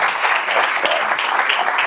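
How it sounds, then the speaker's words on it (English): A business school audience applauds a visiting company president, the clapping dense and even for a short burst, close and fairly loud with no voices on top. "So I just want to give you a round of applause."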